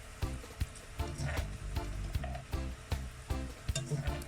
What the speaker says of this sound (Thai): ซึ่งเราก็จะทอดมันฝรั่งต่อไปอีกประมาณ 5 นาทีค่ะ